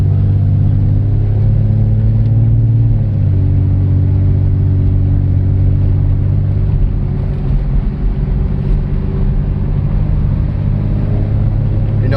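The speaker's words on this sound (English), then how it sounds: "the Flowmaster Flow FX mufflers are now installed, and let me tell you, it's smoother and a little bit quieter" Steady, loud car exhaust drone through Flowmaster Flow FX mufflers, a smooth low rumble that holds nearly constant with a slight drop in pitch, no voices over it.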